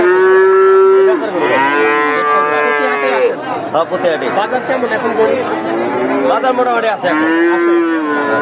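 Loud, drawn-out moos from cattle at a livestock market in Sirajganj, Bangladesh, including an eight-month-old bull, sound close by, several in a row, while people chat nearby over the lowing.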